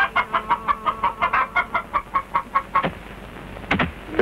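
Chickens cluck in a quick, steady run of close, rhythmic calls beside rice grain drying among Borneo's Dayak people, followed by a pause and a couple of sharper squawks.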